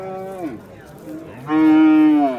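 A heifer at a livestock market moos twice, a shorter low call followed by a louder, drawn-out bellow, close by with faint background noise.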